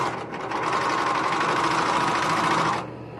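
A serger sewing machine with two needles and a lower looper stitches through fabric in a steady, fast mechanical whir lasting about three seconds before cutting off abruptly. No one talks.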